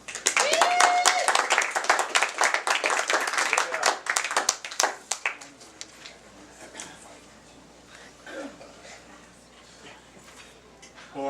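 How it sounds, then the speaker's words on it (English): Applause and clapping from an open-mic audience greeting a reader, a burst of many hands that is loud at first and then thins out over several seconds, with a few scattered claps and murmurs near the end. "Can you give a big round of applause for Tom Avery?"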